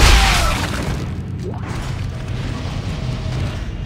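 A line gun fires in the video game Dead Space 2 with one loud, sharp blast at the start. A mechanical rumble and creak follow and fade away, and no one speaks.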